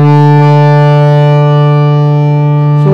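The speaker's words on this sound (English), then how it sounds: "So in case of a kharjnar madi triple line harmonium, the sound will be like this." Kharjnar madi triple line harmonium, three reed sets combined, holding one loud, dense, buzzing sustained chord up close for the whole stretch, with a brief key change near the end.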